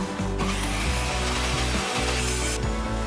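A power saw cuts through timber offcuts from a sawmill, a loud steady whine that dips briefly under load mid-cut, with no voices.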